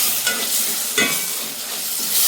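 Spices with a pinch of clove powder fry in a pan, a continuous close sizzle with two quick scraping stirs over about two seconds, no speech.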